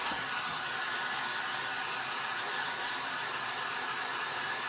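A hair dryer blows on thick, fresh paint coating a mason jar, making a continuous, even, breathy whoosh with no pauses.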